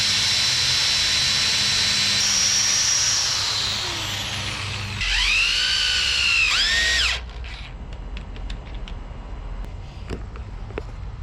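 Power drill whines steadily while boring a pilot hole for a bolt through a board, its pitch climbing and dropping as the trigger is worked, then stopping, followed by a few quiet knocks and clicks.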